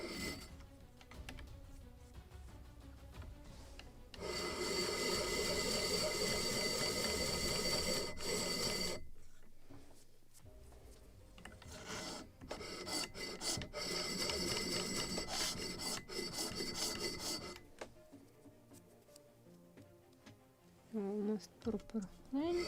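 Sanding the wooden knees of a model gunboat, the 1776 Philadelphia, to length: close, raspy rubbing strokes in sustained spells with pauses between them and faint background noise.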